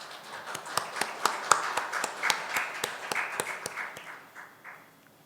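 An audience claps to welcome the opening speaker at a judicial policy symposium, a sparse run of distinct, moderately close hand claps that thins out and fades after about four seconds.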